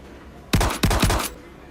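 Video game gunfire in a police siege scene, two or three short bursts of rapid loud shots fired close by with a brief gap between them, standing out clearly against quiet background noise.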